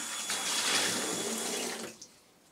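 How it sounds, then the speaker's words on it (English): Tap water splashing into a sink while a coffee cup is rinsed out, a close, fairly loud gush lasting a couple of seconds before cutting off with a small clink. "Rinse my cup out."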